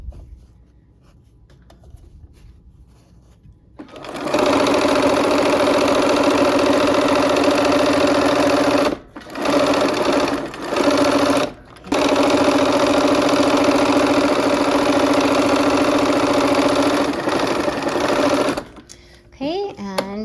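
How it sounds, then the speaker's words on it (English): A sewing machine stitches quarter-inch seams along drawn diagonal lines on a quilt block, running in long, steady, close buzzing stretches with two short pauses and a stop near the end, where a voice briefly speaks. "sew 1/4 inch on both sides of these diagonal lines we drew down the center of the block"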